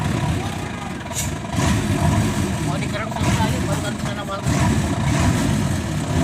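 A Hino twelve-wheel truck engine runs steadily close by, a loud low rumble that swells and eases in a few waves across the stretch.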